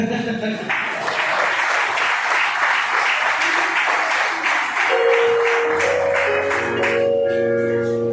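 A church congregation bursts into sustained applause, dense clapping filling most of the stretch before fading as music or tones come in at the end.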